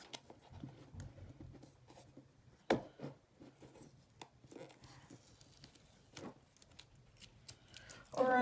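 Scissors snip and scrape through the plastic packaging of an Amazon Halo wellness band in scattered, quiet cuts and rustles, with some louder clicks along the way.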